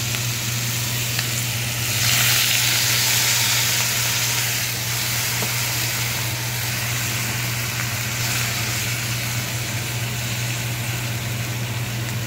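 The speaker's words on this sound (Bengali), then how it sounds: "এবার পনির দিয়ে একটু ভালো করে কষিয়ে নিয়ে" Paneer frying in a kadai gives a loud, steady sizzle that holds throughout, with a faint low hum underneath.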